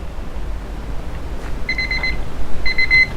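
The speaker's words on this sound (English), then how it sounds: "and there is my timer." A kitchen timer alarm sounds two short bursts of bright electronic beeping over a steady low background hum, fairly faint against the noise.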